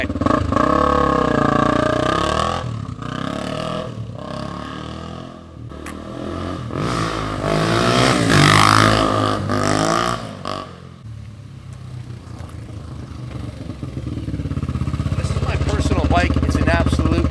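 A 2003 Honda XR250 with a freshly rebuilt engine, Wiseco piston and Hotcam, runs close and loud after a kick start, idling with a throaty rumble and rising in several revs, with a voice partly underneath.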